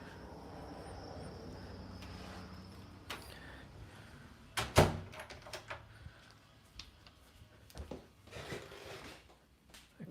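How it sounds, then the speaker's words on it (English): Front door of a home swung shut, a thud and latch clack midway through amid softer rustles and knocks of handling, close and without talk. "I closed the front door, saved a fly in the process."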